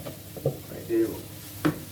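Mushrooms and red kidney beans cooking in a small frying pan give off a quiet, close sizzle, broken by a few soft stirring scrapes and light knocks against the pan.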